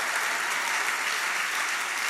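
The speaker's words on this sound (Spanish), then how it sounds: "Dale un fuerte aplauso al Señor." A church congregation bursts into loud, sustained applause, with many hands clapping together in a dense, even wash of sound and no talking.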